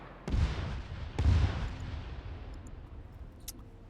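An RPG rocket launch and explosion in a military shooter video game: two heavy booming blasts about a second apart, each with a deep thump, followed by a fading rumbling tail and a few faint distant clicks.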